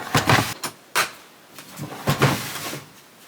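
A drawer on a Ridgid ProGear organizer in a workshop slides open with several quick scraping, clattering bursts and soft knocks, close by and without talk.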